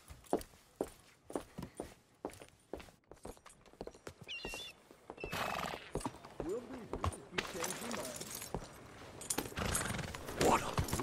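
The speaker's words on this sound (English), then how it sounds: "What a lovely steed!" Horse hooves in Red Dead Redemption 2 clip-clop in a steady walking rhythm, close and clear at first, then partly masked by game sounds and talking.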